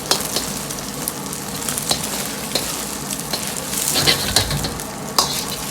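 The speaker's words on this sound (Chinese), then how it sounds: "把鸡蛋保持中火炒至定型，再用勺子划成大小均匀的块儿。" Beaten eggs stir-fried with scallions in a wok over medium heat, a steady sizzle under sharp scraping and clacking of a spoon against the pan, close and continuous.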